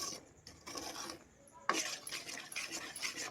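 A spoon scrapes and stirs a gram flour mixture in a pan for Mysore pak, with repeated soft rasping strokes, close and fairly quiet, growing slightly busier after a sharp clink midway.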